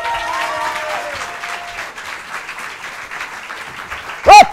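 Studio audience at a French television show applauding a performer, steady clapping under a voice at the start, followed by a sudden loud whooshing swoop near the end.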